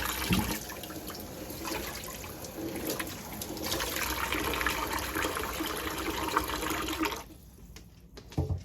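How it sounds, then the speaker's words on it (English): Tap water runs steadily into a kitchen sink as a cutting board is rinsed, a continuous close splashing hiss that stops abruptly near the end, followed by a brief clunk. "Now I'm just going to dump just this here, rinse off my board."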